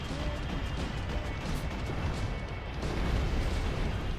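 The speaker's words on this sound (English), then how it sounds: "nice transition from the explosion into the final cutscene" Rumbling explosion from the video game Max Payne 3, a dense, sustained roar of debris and low booms that swells louder toward the end, with no talk over it.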